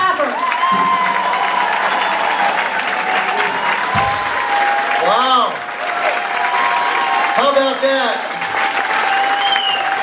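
A room full of people gives Representative Mark Pafford a loud, sustained round of applause with some cheering, while a person speaks briefly over the clapping.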